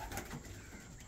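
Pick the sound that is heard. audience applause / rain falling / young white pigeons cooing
young white pigeons cooing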